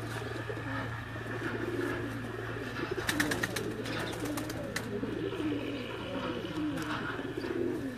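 Pigeons coo softly and steadily on a rooftop in Sialkot, a low murmuring drone running throughout, with a few brief fluttering or clattering sounds in the middle and no clear talk.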